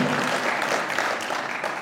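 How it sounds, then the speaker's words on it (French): Audience applause fills a public political meeting in Maubeuge, France: a dense, steady, close wash of many hands clapping together without a break. "je vous demande de les applaudir"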